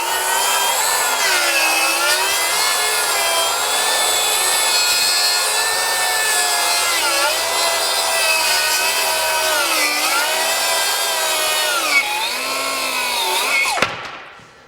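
Metabo HPT 36-volt 7-1/4-inch cordless circular saw with torque boost cutting through a twisted wooden board, a loud, continuous whining cut with wavering pitch as the blade loads, then the motor spins down at the end.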